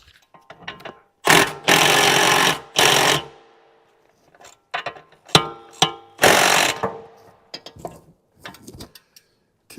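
Ratchet or impact wrench tightening the big bottom bolt on an Aston Martin DB9 front strut assembly, heard as three loud mechanical bursts of roughly a second each, separated by quieter clicks and handling noise.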